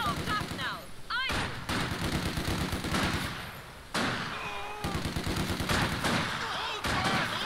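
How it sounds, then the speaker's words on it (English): Machine-gun and rifle fire in a Company of Heroes 2 World War II battle, bursts of rapid shots and fusillades at mid distance, continuing under shouted soldier voices. "Kill the enemy attacking! The soldiers are shooting back! Shoot them down!"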